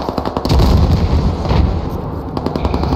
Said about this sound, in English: No, I'm getting shot at.